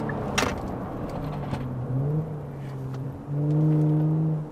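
A Kia Stinger GT, the rear-wheel-drive version in sport mode, pulls hard from inside the cabin. Its engine note climbs in two rising surges, with a short clunk early on and no one talking.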